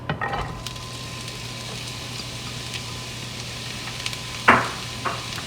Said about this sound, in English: in a pan, I have some olive oil sauteed in a pan. I'm going to add a whole onion diced.